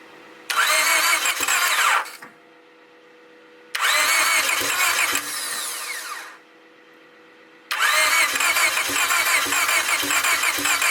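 Fully built turbo Honda Civic engine cranking in three loud starter bursts, each lasting a couple of seconds with short gaps of near silence between, the middle attempt briefly catching before fading.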